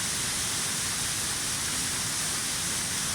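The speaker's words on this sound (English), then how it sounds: "Really exciting place, lots of wind, big waterfall, big passages, really big passages." Roar of a big underground waterfall in a cave: a steady, dense rush of falling water that fills the space evenly for the whole stretch, loud and unbroken, with no voices.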